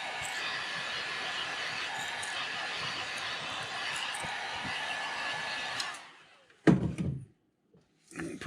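A heat gun heat-setting airbrushed paint on a crankbait lure blows a steady whooshing roar for about six seconds, then cuts off, followed by a couple of short knocks and handling sounds in near quiet.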